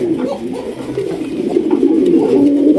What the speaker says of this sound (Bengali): এখানে রয়েছে জার্মান ফ্লেজা কবুতর